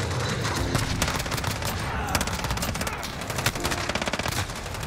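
FiNN light machine gun in Modern Warfare firing long, rapid sustained bursts, dense loud automatic gunfire close up with a voice briefly underneath.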